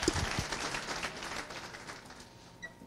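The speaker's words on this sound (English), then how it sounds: "round of applause for Lucy" An audience at a tech conference talk on DevOps applauds, a faint, spread-out patter of clapping that thins and fades away over a few seconds.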